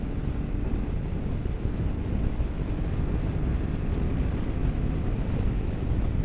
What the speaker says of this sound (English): But it is super windy.